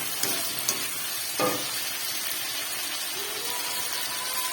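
Chopped tomato and spices sizzle in a hot pan while khichuri is being cooked, a steady frying hiss close by, with a few stirring scrapes and a brief clatter of the utensil.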